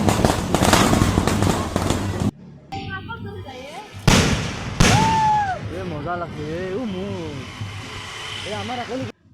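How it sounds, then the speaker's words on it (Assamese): Several sharp firecracker bangs burst out amid loud, busy background chatter during Lakshmi Puja celebrations, with whistling rockets and crackling pops scattered through the noise. "তাৰপিছত বোমা আছে বোমা মাৰে"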